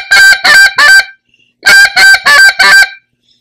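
A Shorty World Champion short reed goose call blown hard and high-pitched: three sharp honks, a pause, then four more, loud and close with no talking.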